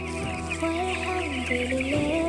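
Young chicks cheeping continuously in a thin, high chorus, with a steady low hum underneath throughout.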